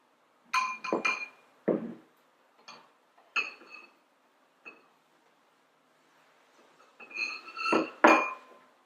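Ceramic or glass bowls and dishes clink and knock together in a series of sharp, close ringing taps, scattered across the clip with quiet gaps and a busier cluster at the end.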